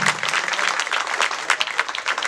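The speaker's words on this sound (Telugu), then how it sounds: "Please give a round of applause." Steady audience applause at a Telugu film trailer launch event, dense clapping from a large crowd, loud and continuous with no talk over it.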